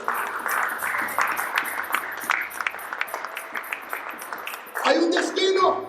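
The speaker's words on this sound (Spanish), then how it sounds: "Den un aplauso a Cristo que Él vive, aleluya." A church congregation in a Spanish-language service claps through most of the stretch as a steady, crowded patter, and a voice rises loudly near the end.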